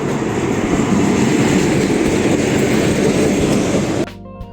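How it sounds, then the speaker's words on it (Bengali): Local train to Azimganj in Murshidabad rumbling past loud and close, a dense continuous roar of wheels and carriages that stops abruptly near the end, leaving a low hum. "তো এইটা হচ্ছে আমাদের আজিমগঞ্জ যাওয়ার ট্রেন।"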